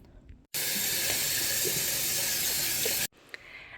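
A keto shake is poured into a large Tervis tumbler, filling it nearly to the top: a steady, close rushing pour starts abruptly, runs about two and a half seconds, then cuts off cleanly.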